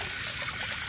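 Wash water left from rinsing rice, lentils and vegetables is poured into a bucket, giving a brief, steady splashing gush heard close up.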